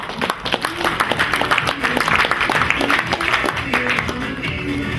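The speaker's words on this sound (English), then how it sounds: "Round of applause, please." An audience at a conference session on mobile advertising gives steady applause for panelists, with mid-level, continuous clapping mixed with crowd noise and some voices underneath.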